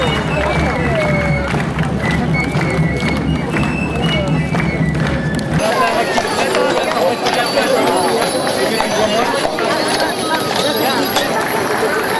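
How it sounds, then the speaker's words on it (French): A large team of 90 draft horses pulls a traditional decorated cart into a church square during a Provençal festival, with dense clip-clop of many hooves over crowd hubbub and a voice talking. "C'est l'arrivée sur la place de l'église du grand attelage de 90 chevaux."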